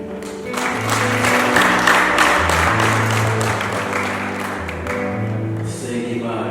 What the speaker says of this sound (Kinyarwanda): musabe abari mu iteraniro babakomere amashyi babashimira kuri uyu mwanya